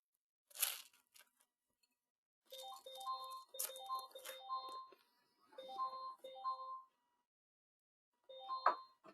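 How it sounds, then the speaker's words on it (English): Trading-platform alert alarm for a forex currency pair, sounding as repeated bursts of electronic beeping tones in short rhythmic groups, moderately loud, with pauses between bursts and no talking. "Do you know which alarm, which pair is beeping right now?"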